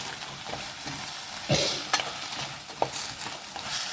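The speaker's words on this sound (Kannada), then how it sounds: "ಎಡ್ಡೆ ಫ್ರೈ ಆವಡು" Mushroom masala fries in a pan with a steady close sizzle, broken by a few sharp scrapes and clinks as it is stirred.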